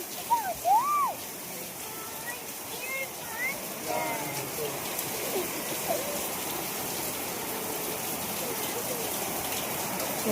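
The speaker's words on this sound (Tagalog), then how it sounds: "Lakas ang ulan!" Heavy rain pours steadily during a typhoon, a dense continuous wash of noise; a voice speaks briefly over it near the start.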